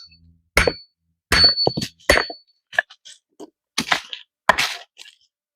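Steel Estwing 13-inch riggers hatchet striking and breaking rocks beside a fire ring outdoors: a series of about seven sharp, loud cracking impacts with short ringing clinks, spaced irregularly with quiet gaps between blows.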